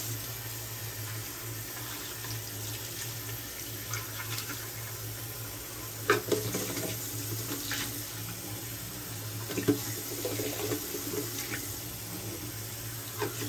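Water running steadily from a tap into a sink while rinsing after a late-night shave, a continuous soft splashing with a few louder splashes midway, no talking.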